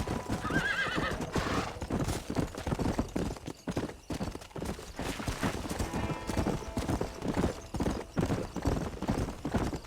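A horse in Red Dead Redemption on Nintendo Switch gallops with rapid rhythmic hoofbeats and lets out a whinny early on, the clip-clop running loud and continuous throughout.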